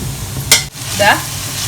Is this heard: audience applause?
no